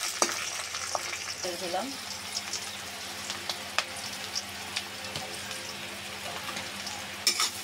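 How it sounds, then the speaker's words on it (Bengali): Whole garam masala, three bay leaves with cinnamon, cardamom and cloves, sizzles in hot oil for a beef curry, a steady close crackle with occasional pops and stirring, while a voice talks over it. "এটাকে একটু ভেজে নেব, তারপরে পেঁয়াজটা আমি দিয়ে দেবো।"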